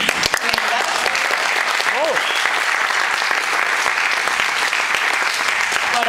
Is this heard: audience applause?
yes